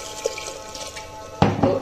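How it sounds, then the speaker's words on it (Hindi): Water poured into a pot of sand grouse curry after frying, a sudden splashing gush near the end following quiet kitchen background and a small clink. "अब इसमें पानी डालते हैं अच्छी तरह भूनने के बाद।"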